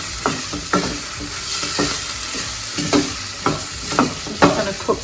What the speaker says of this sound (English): we're going to add the chilli and the ginger into the pan